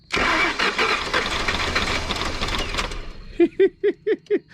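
An old car with 15-year-old gasoline cranks hard: a dense, grinding starter whir runs for about three seconds, then gives way to five evenly spaced chugging pulses. The sound is close and loud, with no one speaking.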